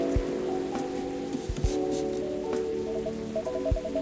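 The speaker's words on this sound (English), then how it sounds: "A place to be safe while the rain falls outside." Steady rain falls in the video game Coffee Talk 2: Hibiscus and Butterfly, a soft continuous patter under gentle sustained music tones, with a few low thumps.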